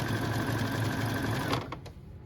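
Sewing machine stitching a decorative stitch, a steady fast mechanical whirring that runs loud and unbroken, then slows and stops with a couple of final clicks.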